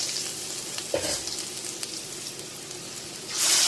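Oil sizzles in a pan with turmeric while being stirred, a soft steady frying hiss with a couple of spoon knocks, then a louder burst of sizzle at the end.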